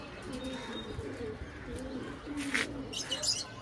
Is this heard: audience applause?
no